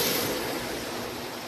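A Marx toy train locomotive runs along its track with a steady, close, broadband whirring rattle that fades slightly over time. No voices.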